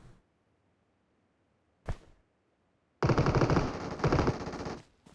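Gunfire in the mobile battle royale game PUBG Mobile: a single loud shot, then after a pause a sustained burst of rapid automatic fire lasting about two seconds.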